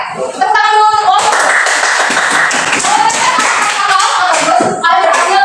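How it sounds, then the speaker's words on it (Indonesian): A classroom of students applauds a student group: dense, loud clapping from many hands that fills several seconds, with a teacher's voice speaking briefly before and after it. "Tepuk tangan dulu untuk kelompok."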